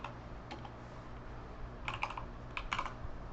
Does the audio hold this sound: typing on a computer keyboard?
yes